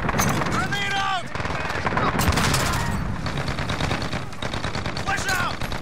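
Gunfire and an automated sentry gun shooting in a hardcore-mode multiplayer shooter match at Suldal Harbor: dense rapid bursts and sharp reports fill the mix, with game voice callouts and electronic chirps layered over the shooting.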